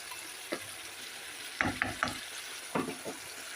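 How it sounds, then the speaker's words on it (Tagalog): A spatula scrapes and knocks through chicken adobo with crushed pepper in a pan, several distinct stirring strokes clustered in bursts over a quiet background sizzle. "Haluin muna natin para maihalo yung ating paminta na durog."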